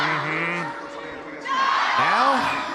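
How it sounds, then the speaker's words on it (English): Crowd of esports fans roaring and cheering in an arena during a League of Legends bracket-stage match, loud and sustained with rising whoops and voices swelling toward the end. "let's hear from the fans. Beautiful noise."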